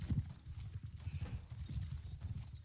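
Horse hooves gallop in Mount and Blade 2 Bannerlord, a steady rhythmic clip-clop of repeated hoofbeats at moderate loudness, heard alone without talk.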